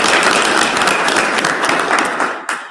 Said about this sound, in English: So I think we need to give each other a round of applause.